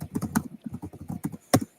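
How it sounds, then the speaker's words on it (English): Keys on a computer keyboard clatter in quick, irregular bursts of clicks, close and fairly loud, with short pauses between runs of keystrokes and a sharper cluster of strikes near the end. "As I'm typing"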